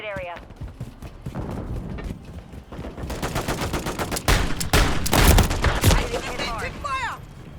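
Gunfire in Call of Duty Modern Warfare 3: sparse shots at first, then sustained rapid bursts that grow louder and denser, with a voice talking over the game sound.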